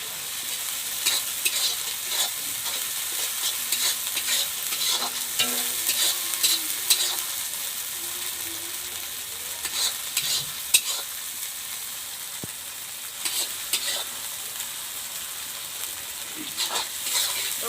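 A spice paste of dried red chilli, ginger and garlic fries in a pan for a village-style fish curry, giving a continuous close sizzle with scattered scraping stirs throughout.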